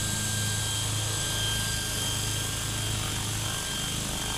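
A scale RC helicopter fitted with a DJI Wookong-S flight controller hovers nose-in, its rotor and motor making a constant, even whine with a steady low hum throughout, close and continuous, with no voices.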